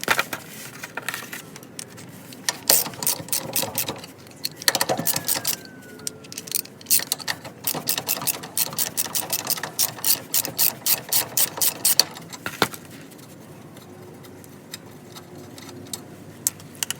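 A 3/4-inch socket on a ratchet wrench loosening stubborn leaf spring U-bolts on a 1965 Mustang, giving rapid clicking runs in bursts with pauses and metallic clinks, close and fairly loud, no speech.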